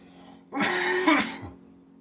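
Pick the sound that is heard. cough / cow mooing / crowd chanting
cough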